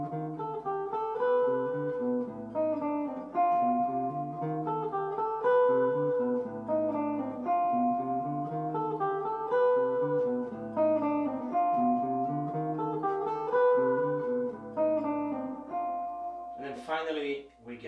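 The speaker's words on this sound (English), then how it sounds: "this starts on G and it's called a Mixolydian flat 13" A single instrument plays a continuous run of melodic notes through the G Mixolydian flat 13 mode of C melodic minor, steady and close for most of the passage, with a brief noisy scrape near the end.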